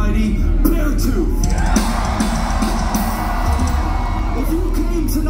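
A concert crowd cheering and yelling for the band, a dense, steady roar of whoops and shouts that carries on without a break.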